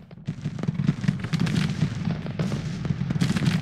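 Troops in a war video game fire musket volleys as a rapid, dense crackle of overlapping shots, a steady barrage of sharp reports over a low rumble for the whole stretch.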